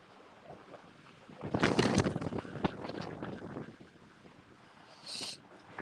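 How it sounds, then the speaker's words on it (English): Wind gusts of up to about 45 mph blow outdoors near calm water, one strong buffeting rush rising mid-way and fading, followed by a brief later gust against the microphone. "The water calms, but the wind picks up."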